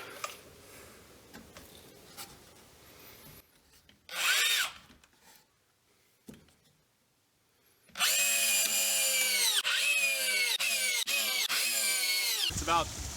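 Cordless drill boring into wood during winter flume construction for a waterwheel microhydro dam: a short close burst of motor whine, then a long, loud, steady drilling run with the pitch sagging under load before it stops.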